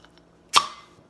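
A bottle of Ommegang King in the North beer being opened, a single sharp close hiss-pop with a short fizzing tail in an otherwise quiet room.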